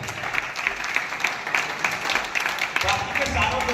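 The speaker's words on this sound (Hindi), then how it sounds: "जोरदार तालियां आपने लिया" Sustained applause from a seated audience at a business plan seminar, dense clapping held steady for a few seconds, fairly close and loud.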